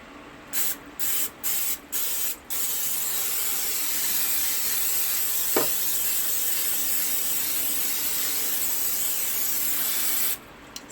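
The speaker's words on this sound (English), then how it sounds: "I got this, the Pam seasoning, and I'm just going to spray this." Pam seasoning cooking spray hisses out of the can in four short bursts, then one long continuous spray lasting several seconds, and a final burst at the end, loud and close.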